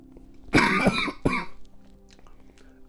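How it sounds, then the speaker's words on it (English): Two loud, close coughs in quick succession, then quiet room tone with faint background hum. "It made me cough, all right?"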